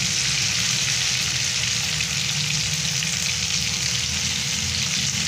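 Curly banana fritters (pisang goreng kribo) fry in hot oil in a wok, giving a loud, steady, continuous sizzle with no pauses and no talking.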